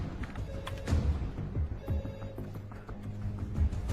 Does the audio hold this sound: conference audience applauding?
no